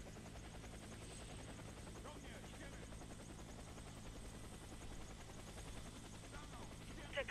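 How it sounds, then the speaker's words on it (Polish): A helicopter in the shooter game Warface sends out a steady, low rotor drone that holds evenly throughout at moderate level, with no speech over it. "Ruszajcie do helikoptera."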